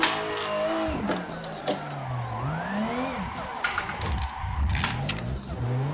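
A formula car drifts around turn 1 at Seattle in a racing simulator game, its engine wailing and sweeping up and down in pitch, with tyre squeal throughout, loud and continuous.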